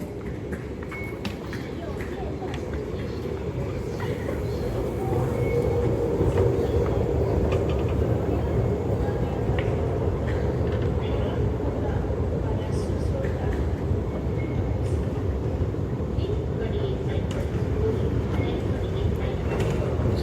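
A Singapore metro train rumbles at a station platform with glass screen doors, giving a steady low roar with faint clanks throughout.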